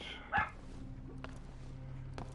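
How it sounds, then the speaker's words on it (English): A dog gives a single short bark a little way off, followed by faint scattered thumps and clicks over low background noise. "I don't know why my dog is barking."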